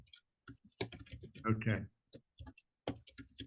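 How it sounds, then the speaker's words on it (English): Clicky computer-keyboard typing comes through during an online meeting, soft and scattered under a person speaking close to the microphone. "There's some typing or something."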